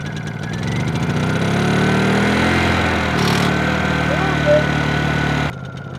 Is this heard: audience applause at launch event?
no